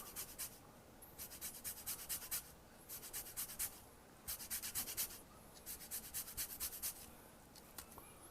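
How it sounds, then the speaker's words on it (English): Half a lime being zested on a fine grater for salmon tacos, a close, steady run of short scraping strokes in quick rhythmic bursts with brief pauses between them. "I am going to take the zest of one lime, actually half a lime. Just going to zest that in there."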